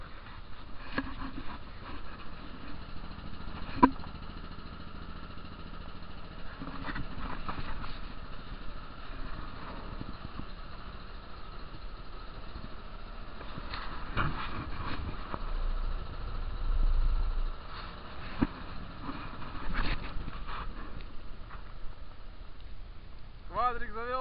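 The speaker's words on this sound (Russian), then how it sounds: "Квадрик завелся" A Stels ATV 300 quad bike idles in winter just after starting, a low, even engine putter running continuously, with faint voices and occasional knocks on top.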